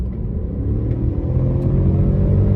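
Škoda Kamiq Monte Carlo crossover with 1.0 TSI turbo engine and DSG gearbox accelerating in sport mode, a steady loud low engine rumble and road noise heard from inside the cabin, building slightly in strength.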